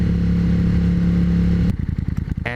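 A custom Suzuki Intruder motorcycle with Harley mufflers idles with a deep, steady throbbing hum, close by, then the tone shifts to a lumpier, pulsing rumble near the end.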